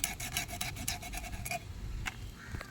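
A knife cutting through a sea fish to remove a bone, giving close, rapid rasping scrapes in a steady rhythm that stop partway through, followed by a few isolated scraping strokes.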